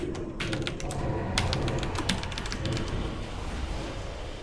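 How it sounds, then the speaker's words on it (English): Steady clicking and tapping on a computer keyboard accompanies a Shadow Priest rotation on a target dummy, with irregular, close keystrokes continuing throughout over a low background hum. "You can hear my awesome keyboard clicks."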